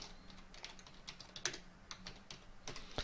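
Quick, uneven typing on a computer keyboard, close and fairly quiet, with a burst of clicks and a few heavier key strikes, and no talking.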